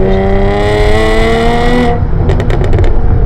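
A Jaguar F-Type V6 with a Stage 4 tune pulls hard in third gear from 3,000 RPM, its loud, close engine note climbing steadily before easing off into crackling pops near the end.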